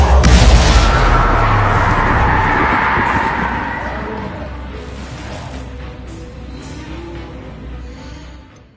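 A Confringo explosion spell in Hogwarts Legacy goes off as a loud, close blast, then a long rumbling roar that slowly fades over several seconds.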